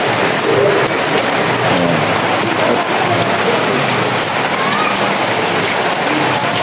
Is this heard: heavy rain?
yes